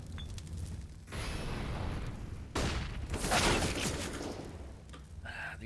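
Pistol shots ring out in a Counter-Strike match, sharp bursts from a USP sidearm amid Deagle fire, landing as a few loud, dense cracks over constant in-game noise and a lull between them.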